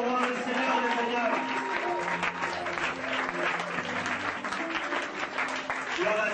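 A church congregation applauding and cheering, a full, steady wash of many hands clapping that fills the room throughout with no break.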